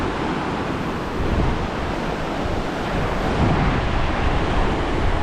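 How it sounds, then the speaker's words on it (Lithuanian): A calmer mountain stream high on the Tour du Mont Blanc, a steady broadband rush of water mixed with gusting wind buffeting the microphone, continuous and loud throughout. "Bet upelis toks ramesnis, nei prieš tai."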